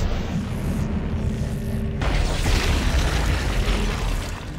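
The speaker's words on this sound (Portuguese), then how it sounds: "Nossa, o bicho explodiu." A creature bursts apart in the Dead Space 3 video game with a heavy, booming explosion that lands midway through low rumbling game ambience and then trails off into a dense roar.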